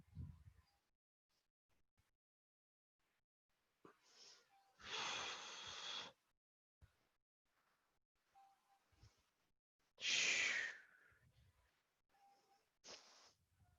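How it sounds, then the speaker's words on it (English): Heavy breathing from a person balancing on one leg during soccer training exercises: faint, isolated bursts of hissing exhalation and sharp inhaled gasps between quiet pauses, close to the microphone. "And you may even hear me breathing."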